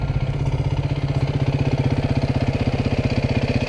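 A Honda CRF dirt bike idles close by with a steady, rapid low thumping pulse that holds even and unbroken throughout, no voices over it.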